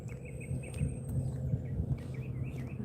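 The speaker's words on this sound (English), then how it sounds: "Birds are happy. You can hear them singing." Birds sing and chirp in a desert garden after rain, with flowering ranger shrubs nearby; repeated bright, wavering calls ride above a low, steady background rumble throughout.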